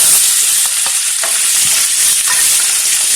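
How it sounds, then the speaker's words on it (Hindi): Boiled potatoes sizzle steadily in a hot pan with turmeric while a spoon scrapes and stirs through them with occasional soft clicks, cooking for sabudana khichdi. "आलू को 2-3 मिनट भूनते हुए हो गया है"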